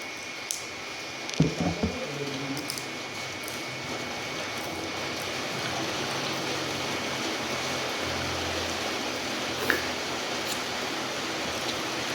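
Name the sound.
heavy rain falling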